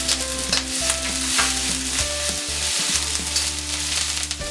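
Chopped garlic, chopped ginger and green chili sizzle loudly in hot oil in a pan for a soya Manchurian, with a steady frying hiss, some stirring and a constant low hum throughout.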